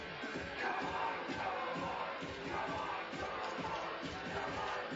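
Spectators at a Sweden–Finland American football game with a large Finnish contingent, a steady distant crowd murmur and shuffle that fills the whole stretch without clear cheers.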